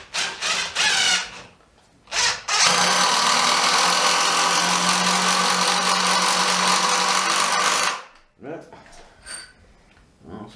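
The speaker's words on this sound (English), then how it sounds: "I'm going to put a few in with the Bosch to see if that breaks it." A Bosch impact driver runs a screw home in one long, loud, continuous buzzing rattle of about five seconds, with shorter bursts and a voice before and after.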